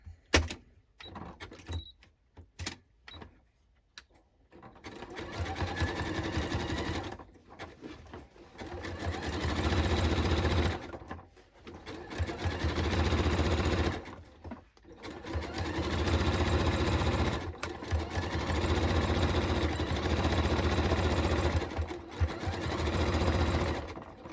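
A sewing machine backstitches a seam on a denim jacket, running in several sustained loud bursts separated by short pauses, with a few isolated clicks at the start.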